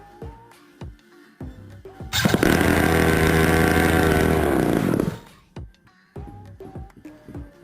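A Jetsurf motorized surfboard's engine bursts into a loud, rough, buzzing roar for about three seconds, then cuts out. Scattered clicks and knocks from the engine's handling come before and after.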